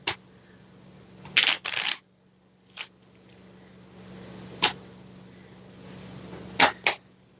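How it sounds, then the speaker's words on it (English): A deck of psychic reading cards is shuffled by hand in several short, crisp bursts of riffling and tapping, close up, separated by quiet gaps. "Let me shuffle it again and count it out for you."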